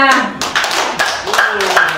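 A lecture audience claps for a guest speaker, with a few loose, uneven bursts of hand claps close by. Voices are heard over the clapping.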